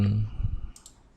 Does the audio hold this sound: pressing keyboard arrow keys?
yes